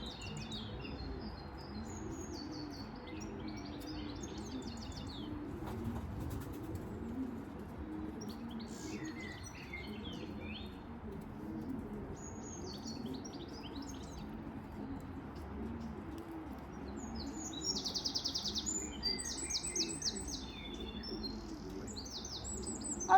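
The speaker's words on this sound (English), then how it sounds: "Those birdies sound lovely, chirping away." Small birds chirp in short scattered bursts near a pigeon loft on an Easter Sunday race day, with pigeons cooing underneath and a steady low background murmur.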